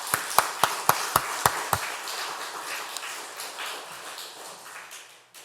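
A church congregation at a Friday service applauding: about seven sharp, evenly spaced claps ring out first, then a softer wash of scattered clapping that gradually fades away.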